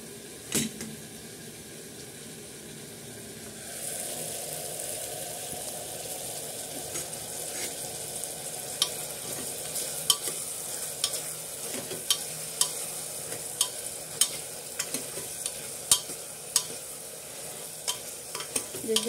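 Spices tipped into a pan of potato and eggplant curry with tomato, frying with a steady close sizzle and rhythmic scrapes and taps of a spoon stirring, growing busier after the first few seconds.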